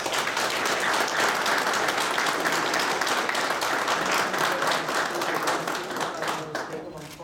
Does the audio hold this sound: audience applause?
yes